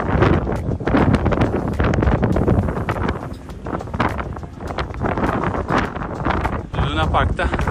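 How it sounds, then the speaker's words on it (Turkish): Very strong wind blasts across the microphone on the Tibidabo hilltop by its old amusement park, a loud, dense roar with gusty surges that never lets up. "Şu an çok şiddetli bir rüzgar var."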